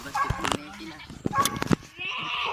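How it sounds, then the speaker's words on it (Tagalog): A caught goat bleats in a few short, wavering calls close by, while voices talk around it. "Yung kambing mga Jacks. Ayun, nahuli namin."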